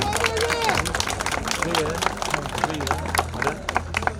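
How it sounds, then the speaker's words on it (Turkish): Crowd applause at a drift season finale in Körfez, honouring the season winner: dense, steady clapping that carries through the whole stretch, with a voice speaking over it. "alkışlar, tebrikler Ege Bilaloğlu'na."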